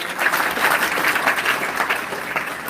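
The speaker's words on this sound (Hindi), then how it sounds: "ताली लगाओ इसके लिए जरा" Schoolchildren at a school in Bhopalgarh clapping together as a group, a dense, steady burst of applause from a nearby room-sized crowd, sustained for a few seconds without speech.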